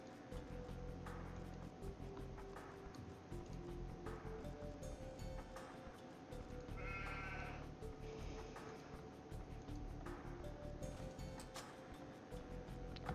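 Sheep bleat in a medieval real-time strategy game, several short calls scattered over a constant background of ambient game sound, with no one talking.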